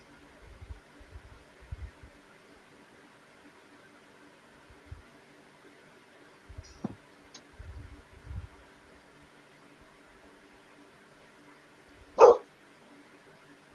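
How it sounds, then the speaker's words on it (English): A single dog gives one short, sharp bark, heard clearly over a quiet room with faint low thumps earlier. "Oh, what are you going to start barking now?"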